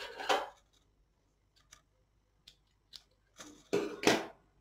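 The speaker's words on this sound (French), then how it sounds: "Donc on coupe sa laine." Knitting yarn is snipped with scissors at a machine-knitting table, giving a few crisp blade snips and clicks separated by quiet pauses, close and fairly soft.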